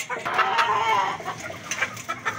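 Chickens and fighting roosters cluck steadily and close by while being fed in the rain, with sharp individual calls rising over a continuous hiss of rainfall.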